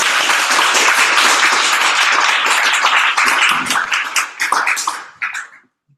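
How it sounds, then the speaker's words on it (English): A room of attendees at an accessibility meetup on Google Chrome gives a speaker named Dave a loud, dense round of applause that holds steady, then thins into scattered claps and stops near the end. "a round of applause for Dave"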